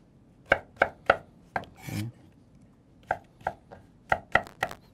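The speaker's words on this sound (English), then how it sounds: "And you want to chop the mangoes into little small chunks because we want to put them in a blender." A knife chops mangoes into small chunks on a cutting board for tropical fruit soup, with sharp, close taps in quick groups and a brief scraping sound in between.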